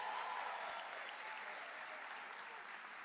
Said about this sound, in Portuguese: E para o Senhor Jesus, você pode dar um aplauso ainda maior?